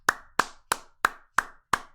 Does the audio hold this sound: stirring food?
no